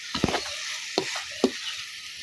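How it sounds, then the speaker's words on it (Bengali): Beef browns with reddened onions and spices in a pan, a faint steady sizzle broken by a few sharp clinks and scrapes of stirring. "এখন সব মশলা একসাথে দিয়ে গোস্তগুলো কষিয়ে নিলাম।"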